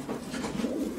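A large, muscular racing pigeon gives a low, continuous throaty coo while being held in the hand, close and steady with no talk over it.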